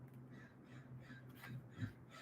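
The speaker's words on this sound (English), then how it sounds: "You hear the bird outside?" Indoors, a crow caws outside, the repeated harsh calls faint and muffled by distance beneath a low steady hum, with no talking.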